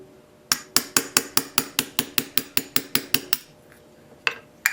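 A rapid, steady series of about fifteen sharp metallic hammer strikes on a drift pin while repairing a palm sander, then a pause and two final taps.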